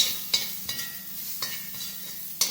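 Chopped onions, scallion, garlic and scotch bonnet pepper frying with curry powder and turmeric for Jamaican curry goat, giving a soft continuous sizzle with a few light scraping stirs at irregular intervals, quiet and close.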